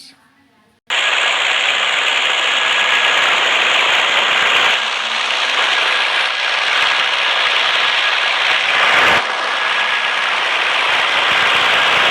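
Airplane engine in Garena Free Fire drones loudly and steadily after a brief quiet start, a constant broadband roar that fills the whole stretch.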